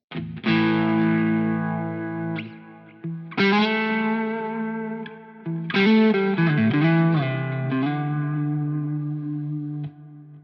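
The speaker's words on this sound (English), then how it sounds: "Kind of a nice low gain ambient drive there." Three sustained electric guitar phrases ring out with a mild low-gain overdriven tone from a Quad Cortex preset, wrapped in ambient effects and trailing reverb.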